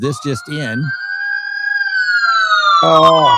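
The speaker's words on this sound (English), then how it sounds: "That's a siren," A police siren sounds as a single long steady wail, loud and close, with a person speaking just before and just after it.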